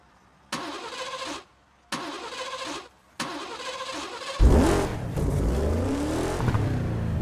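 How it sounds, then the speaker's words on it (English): A car engine in the racing game Burnout Paradise cranks and fires up with a loud burst, then revs with rising, whining pitch. Three short tonal game chimes come first, separated by brief silences. "Hold the accelerator to fire up the engine"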